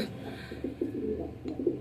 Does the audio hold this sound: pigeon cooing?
yes